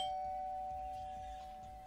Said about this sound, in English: You wake up to the sound of the doorbell ringing again.